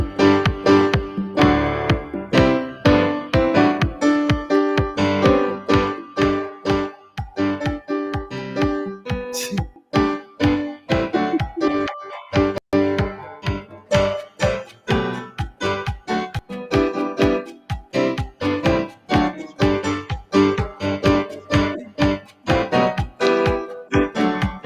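Full band-style arrangement played in a cha-cha rhythm, with dense chords and sharp, evenly spaced rhythmic hits driving a steady, lively pulse throughout, loud and continuous with no talking.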